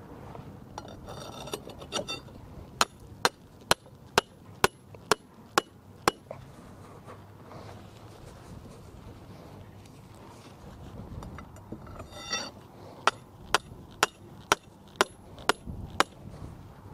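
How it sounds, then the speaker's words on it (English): Sharp metallic hammer strikes ring out as rebar stakes are driven into the ground to anchor a raised garden bed, in two steady runs of about half a dozen blows each, with a quiet gap between them and light wind noise. "I'm not hammering the rebar in all the way"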